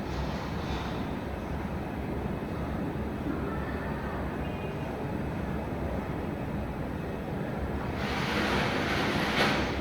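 Taro stolons and potatoes fry in oil in a pan, giving a steady, close hiss of sizzling that holds level and swells briefly louder near the end.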